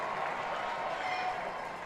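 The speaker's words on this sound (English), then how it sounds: "Crowd making some noise" Crowd noise at a minor-league baseball stadium during a North Division championship playoff game, a steady broad roar of cheering and applause holding level throughout without letting up.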